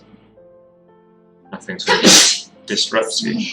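A person sneezes loudly and close by, one sharp burst following a short stretch of speech, then a few breathy aftershocks.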